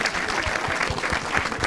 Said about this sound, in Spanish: aplauso a Beto.